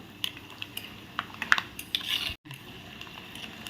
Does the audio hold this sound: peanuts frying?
yes